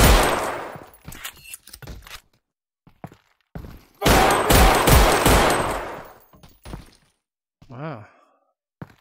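Gunfire in Half-Life: Alyx, with loud bursts of rapid shots in a couple of dense clusters and scattered single cracks between them, mixed with voices and ending in a short warbling tone.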